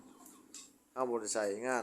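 Chickens cluck in a makeshift pen set up in an old unused house, a few close clucking calls rising over quiet background, with a person talking softly nearby.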